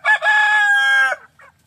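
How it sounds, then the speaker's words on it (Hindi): A Vanraja rooster on a small village desi poultry farm gives one loud, close crow lasting about a second, followed by a brief, softer clucking sound. "ये मेरा वन राजा का मुर्गा है"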